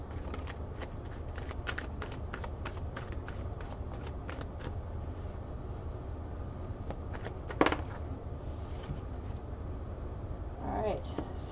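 Tarot cards are riffled and shuffled in a rapid, crisp flutter of flicks, followed by a card slap and a slide as one is drawn, all close and fairly quiet.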